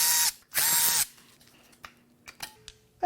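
A power tool whirs in two loud bursts while removing the vacuum pump from a BMW/Mini N14 engine, followed by quieter metallic clicks, ratcheting and clinks of hand tools against the engine.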